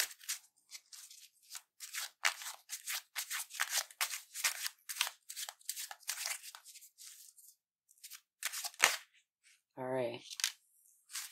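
Tarot cards shuffled and drawn from the deck, a rapid series of crisp slaps and riffles that stop briefly before a few final card snaps, with a short spoken word near the end.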